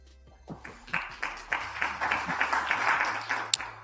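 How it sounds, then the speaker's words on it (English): Slow clapping from an audience at a political speech, starting as scattered claps and building into a steady, rhythmic applause of many hands, moderately distant in a large hall. "they was slow clapping like a motherfucker for that shit"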